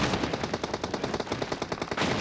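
Rapid automatic gunfire in the PUBG Mobile video game, a single sustained burst of evenly spaced shots cracking close and loud, with no talking over it.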